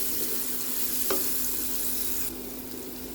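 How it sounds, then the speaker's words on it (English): Minced garlic fries in a pan for chicken adobo, giving a dense, even hiss of hot oil that continues unbroken, with one brief spatula tap partway through. "let's add our minced garlic and fry for a few seconds"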